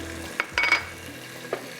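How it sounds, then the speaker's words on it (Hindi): Red chilli powder, crushed cumin, salt, turmeric and ginger-garlic paste fry in a pan for masoor dal, a close, steady sizzle with a few sharp scraping stirs of a spoon. "थोड़ा सा बस इसको हमने भूनना है इस तरह से।"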